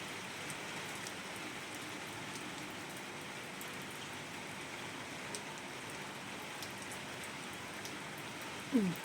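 Steady rain falls during a stormy spell, a dense even hiss with no breaks, heard at a modest level from indoors and otherwise alone.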